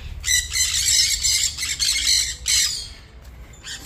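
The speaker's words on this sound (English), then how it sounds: "Noisy parrots." Parrots let out harsh, loud squawks in several rapid bursts, close by, with short pauses between calls, near Hua Hin, Thailand.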